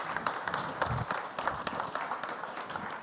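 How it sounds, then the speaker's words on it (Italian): Steady, moderately faint audience applause at an Italian opening event on the sport system, welcoming a ministry official onto the stage, with even clapping running throughout. "Lo accoglierei con un applauso."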